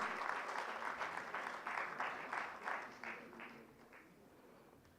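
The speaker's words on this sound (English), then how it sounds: "A round of applause for our first international winner" At an award gala, a seated audience claps in steady rhythmic applause that gradually fades out over several seconds, heard from a distance in a large room.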